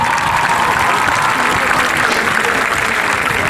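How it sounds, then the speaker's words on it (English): Parents and guardians at a high school graduation ceremony applaud, a loud, dense, sustained wash of many hands clapping that continues evenly throughout. "So parents and guardians, I would like to give you a round of applause."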